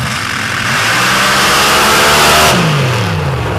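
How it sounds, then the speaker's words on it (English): A blown 581 cubic inch Hemi paddle tire dragster at a Lee County drag race revs loud and close, its roaring engine note climbing, then dropping off sharply near the end. "581 cubic inch Hemi power plant in this one."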